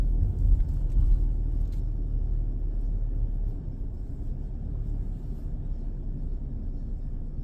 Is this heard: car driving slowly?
yes